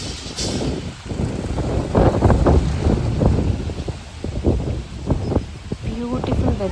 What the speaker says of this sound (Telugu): అంత పెద్ద గాలి.